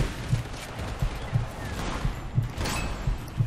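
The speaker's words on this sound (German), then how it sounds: "Wie viele Kugeln soll ich denn noch einknallen?" Gunfire in the dinosaur shooter game Primal Carnage: a rapid series of sharp shots at a fairly even rhythm, moderately loud, with a faint high whine passing through.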